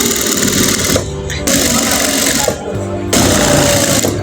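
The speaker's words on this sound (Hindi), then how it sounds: "तो इधर मैं इसके किनारे किनारे पे सिलाई दे रहा हूँ।" Sewing machine stitching along the edge of cushion fabric, a loud, steady rapid mechanical chatter in close bursts with two short pauses between runs.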